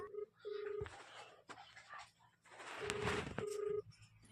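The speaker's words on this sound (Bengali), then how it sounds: "কি হচ্ছিল, রিং হচ্ছে নাকি?" A phone call is placed: several short dial tones and beeps sound at moderate level, with muffled voices and household noise in between.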